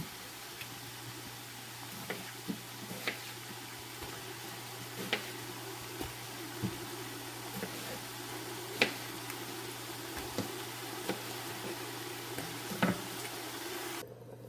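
A spoon stirs a big pot of chopped tomatoes coming to a boil for pasta sauce, with faint, irregular knocks and ticks against the pot over a quiet hum.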